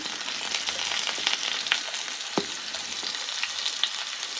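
Chopped onions and garlic fry in a pan, a constant close sizzle with a few sharp clicks and knocks of stirring scattered through it, and no one speaking.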